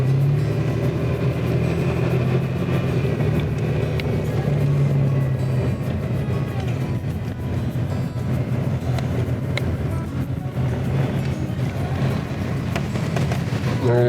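A car drives slowly through the grounds of Del Webb's Spruce Creek Country Club, past the tennis courts, with a steady low engine and road rumble running continuously and no talk.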